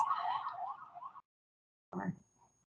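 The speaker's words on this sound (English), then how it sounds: "Is that siren? That was a siren." A siren wails with a wavering, rising and falling tone, cuts off, then briefly sounds again, fairly faint and distant.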